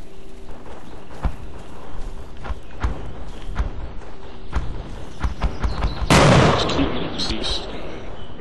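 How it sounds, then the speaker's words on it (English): Gunfire in the military shooter game Project Reality, single sharp shots spaced irregularly, then a louder burst or blast near the end, with a voice talking briefly. "Shooting at us."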